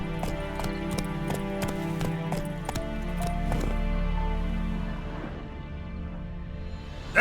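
Roach, a horse in The Witcher 3, trots with steady, regular clip-clop hoofbeats over a low ambient bed and music, the hooves fading out toward the end.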